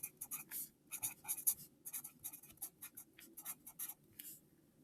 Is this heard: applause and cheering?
no